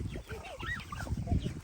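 Chickens inside a movable chicken tractor cluck in short, close, overlapping calls over a low background rumble.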